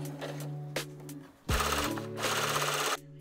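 A sewing machine runs a straight stitch along the side seams of a thrifted skirt, with short mechanical bursts separated by pauses and a louder, steadier run near the end.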